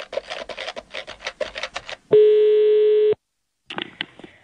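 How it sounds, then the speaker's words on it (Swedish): Quick bursts of touch-tone telephone dialing tick out a number, followed by a single sustained steady beep tone, a pause of silence, then a few more short tones. "Jag ringer gamle Väste"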